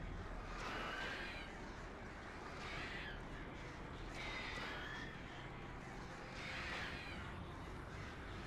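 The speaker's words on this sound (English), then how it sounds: "Birds are coming back." Several crows caw repeatedly in the Alan Wake Remastered video game, recurring in bursts every couple of seconds over a steady ambient background, moderately loud throughout.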